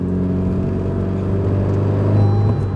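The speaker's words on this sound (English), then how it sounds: "Yeah, the RPMs drop like right away." The engine of a 10th-generation Honda Civic Si fitted with an upgraded ACT clutch runs close and loud as a steady low rumble, its revs settling downward over a few seconds with no voices.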